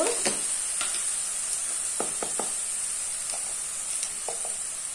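Jujube (kul) pickle frying in a pan gives off a steady sizzle after a little water goes in, with occasional scrapes and clinks of stirring.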